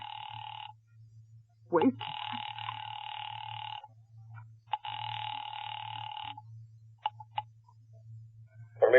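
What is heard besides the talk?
telephone ringing in an old-time radio drama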